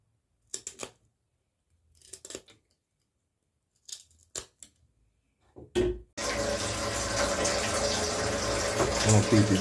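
Chicken feet are rinsed under running tap water while making Jamaican barbecue chicken feet. A few sharp snips come first, then a loud, steady gush of water runs without pause.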